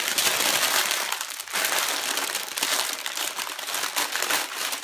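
Parchment paper crinkling loudly and continuously as soft homemade fudge is rolled into a log in a kitchen, with crisp crackling bursts and a brief pause partway through.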